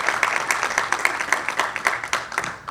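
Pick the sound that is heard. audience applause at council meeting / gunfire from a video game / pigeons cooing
audience applause at council meeting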